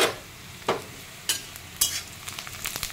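Onions frying in a pan are stirred with sharp scraping strokes that come in separate bursts over a low, steady sizzle, close and fairly loud.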